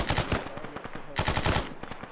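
A ZU-23 autocannon fires in Hill 185 with Soviet forces in Africa, loud rapid bursts of pounding shots in two long strings separated by a brief gap, close and dense, with no talking.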